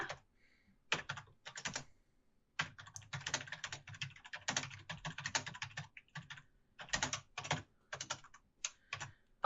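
Rapid typing on a computer keyboard, close and crisp, with bursts of clattering keystrokes separated by brief pauses and a few heavier thumps, no voices over it.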